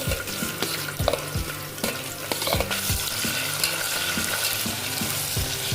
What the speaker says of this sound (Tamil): வெங்காயம் நல்லா வதங்கி வரணும், அதனால் நல்லா வதக்கிக்கலாம்